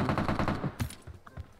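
A rapid automatic burst of gunfire in the mobile battle royale PUBG Mobile, a close, loud string of shots in the first half-second followed by a few sparser pops fading out.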